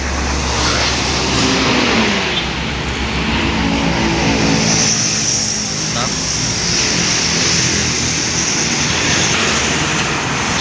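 A Sugeng Rahayu intercity bus on the Surabaya route passes close along the road, its loud engine roar and tyre noise dominating throughout, with a voice talking over it.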